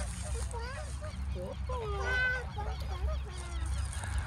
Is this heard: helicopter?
no